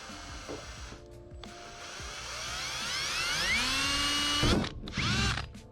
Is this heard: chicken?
no